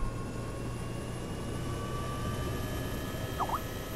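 Helicopter lifting off in the survival game DayZ, a steady droning rotor and engine hum with a faint high whine, continuous and fairly loud with no talk.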